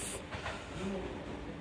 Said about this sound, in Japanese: なかなか珍しい列車を見ることができましたよ。